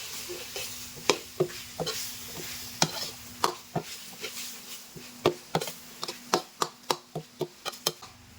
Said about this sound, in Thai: เราก็นำยอดมะพร้าวอ่อนที่เราหั่นเตาไว้ครับ ลงมาผัดคลุกเคล้าให้เข้ากันครับ